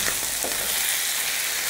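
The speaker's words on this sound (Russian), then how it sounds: "Все вместе буду жарить под крышкой." Chicken livers fry together in a pan, giving a loud, dense, steady sizzle and crackle close up, with no voices over it.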